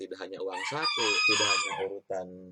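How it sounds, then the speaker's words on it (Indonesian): A rooster crows nearby, its drawn-out call rising partly over and partly under someone speaking Indonesian close to the microphone. "ada ayam lagi bunyi"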